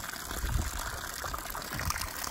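Water poured into a sheep's water trough during a blizzard, a moderate splashing gush with low thumps near the start and again later, close by, with no speech.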